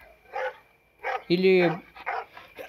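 A dog gives one close, loud, drawn-out bark or yelp amid speech, with people talking before and after it.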